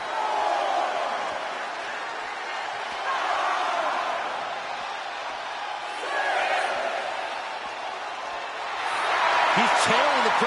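A roaring arena crowd in the wrestling game WWE 2K23 on PS5, a steady wash of cheering that swells and dips throughout, with brief sharper whoops and a thud near the end.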